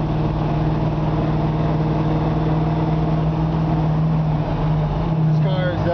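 A steady, deep engine rumble from a 1973 Camaro Z28 with long tube headers and Flowmaster exhaust idles close by, its low throaty drone holding constant with a slight shift near the end.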